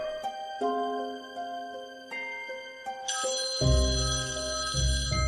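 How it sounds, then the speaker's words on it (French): A phone rings with a steady electronic tone that shifts pitch partway through, joined by a loud low rumble near the end. "Le téléphone sonne."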